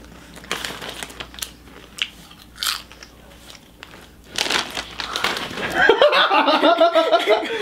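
Someone bites and chews crunchy Doritos chips up close, with sharp separate crunches spaced out at first, then denser chewing mixed with crinkling of the bag toward the end.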